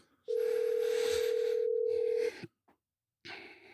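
A steady, loud tone of a telephone ringback heard while a call is placed, holding for about two seconds, then a brief pause and background noise; no speech over it.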